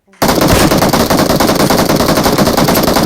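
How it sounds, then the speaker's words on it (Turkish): Loud, dense automatic gunfire in the video game PUBG Mobile, starting sharply after a brief silence and hammering on continuously for nearly three seconds. "Buradan da biri ateş ediyor"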